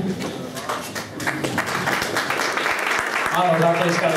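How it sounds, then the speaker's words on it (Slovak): Audience applause at a sports awards ceremony, a steady wash of clapping from a crowd in a hall, with a voice talking over it near the end. "Áno, zatleskali, zatleskali to."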